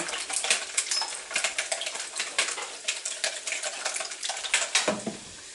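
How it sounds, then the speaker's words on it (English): Three eggs being whisked in a bowl for a Dutch baby batter: quick, uneven scraping and clicking strokes, close and fairly loud, in bursts with brief pauses, no talking. "we have 3 eggs. We'll whisk those up a little bit."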